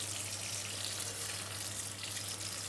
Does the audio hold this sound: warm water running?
yes